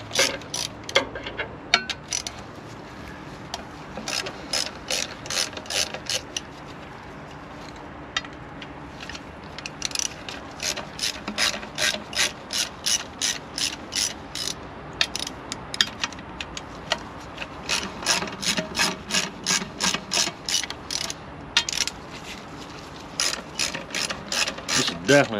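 A hand ratchet turns a bolt in a workshop, giving rapid runs of loud, close clicking in repeated bursts separated by short pauses, with no talk over it.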